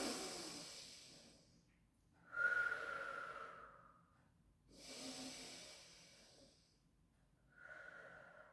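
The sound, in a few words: breathing in during a pilates exercise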